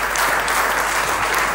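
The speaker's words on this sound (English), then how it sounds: "Give her a round of applause." Audience applause during a church service, a short, even burst of many hands clapping in a room, steady and without voices.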